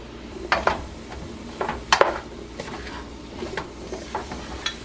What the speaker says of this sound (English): I add this amount of mushroom. Lots of mushroom.